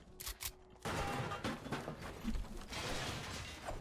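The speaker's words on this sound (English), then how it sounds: "The minigun is actually so good for this challenge here." Minigun firing in a first-person shooter video game, a steady rapid rattle of shots running continuously for a few seconds after a brief spin-up.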